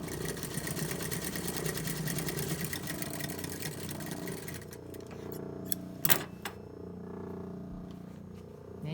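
Sewing machine with a dull needle stitching shirt fabric, a steady close mechanical whirr running for several seconds before stopping, followed by a couple of sharp clacks and quiet handling noises.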